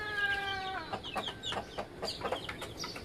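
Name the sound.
chickens clucking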